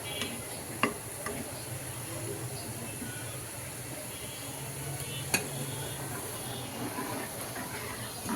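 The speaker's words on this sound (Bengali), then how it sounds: "তো মা ডালটাই তো বাগার দিয়ে দিচ্ছে, মুগ ডাল।" Moong dal tempers in a pan with a faint, steady sizzle and hiss, broken by a couple of sharp clinks of a utensil, while a voice speaks intermittently over it.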